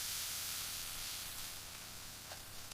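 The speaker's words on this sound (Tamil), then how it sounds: "எண்ணெய் காய்ந்ததும் நம்ம நறுக்கிய வெங்காயத்தை சேர்த்து வதக்கிக்கலாம்" Chopped onion frying in hot groundnut oil, a steady close sizzle and hiss throughout, with a faint clink near the end.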